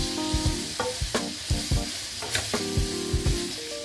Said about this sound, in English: We're getting ready to lightly saute the beef in a little bit of olive oil that I have right here